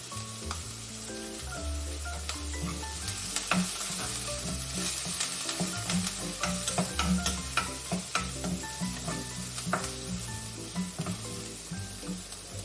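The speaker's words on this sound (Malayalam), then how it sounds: "നമുക്ക് ഒരു 3-4 പച്ചമുളക്, പിന്നെ കുറച്ച് വേപ്പില കേട്ടോ ഇളക്കി കൊടുക്കാം" Green chillies and curry leaves frying for spinach thoran, a loud continuous sizzle with repeated scraping and clattering strokes as they are stirred in the pan.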